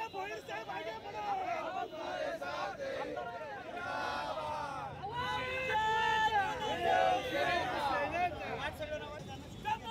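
Shiv Sena workers celebrate outside the party's Dombivli branch office after a court verdict. A loud, close crowd shouts and chants slogans in overlapping voices, with a steady roar of chatter throughout.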